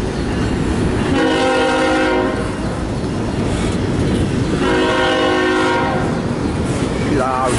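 Two CSX freight trains meeting in Fostoria, Ohio: a loud, close horn sounds in two long blasts amid continuous rumbling wheel and railcar noise, with a brief higher whistle-like tone near the end.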